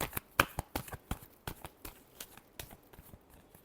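Tarot cards being shuffled in a deck, giving a run of sharp, quick riffling slaps and flutters that come in an uneven rhythm, close up and fairly quiet, with no voices.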